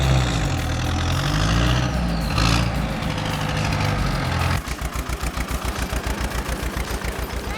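A John Deere 4450 tractor engine runs close by with a steady heavy rumble, then shifts into a rapid, evenly pulsing chug for the last few seconds.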